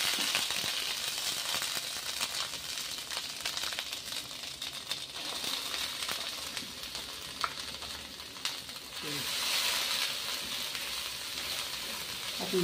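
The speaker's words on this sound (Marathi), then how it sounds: "आपल्याला थोडं परतून घ्यायचं." Onion, garlic and ground coconut sautéing in hot oil with cumin and mustard seeds for a traditional modak amti gravy, a steady, moderate sizzle and crackle with occasional stirring scrapes throughout.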